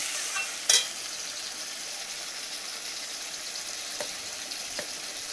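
Okra and potato vegetables sizzle softly in a pan for a fish curry, a quiet steady frying hiss broken by a sharp clatter near the start and a few light stirring clicks.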